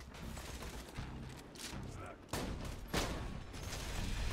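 Gunfire from the video game Borderlands 2, a wedding-themed shotgun fight, with several sharp shots and bursts over busy game noise and music, fairly quiet overall, with a little speech mixed in.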